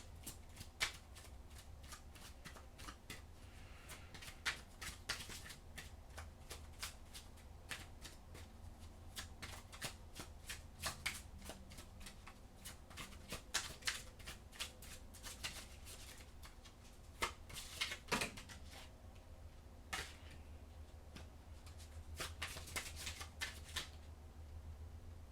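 Oracle cards are shuffled by hand in a quiet room, a long run of soft riffling bursts and flicks repeating irregularly for about twenty-five seconds, close and fairly faint, with no talking.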